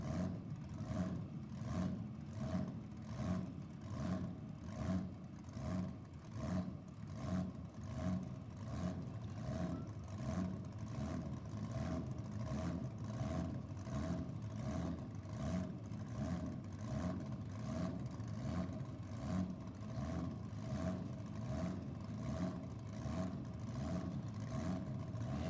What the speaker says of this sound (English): Hear the surge of that blown Holden 6-cylinder down there in the background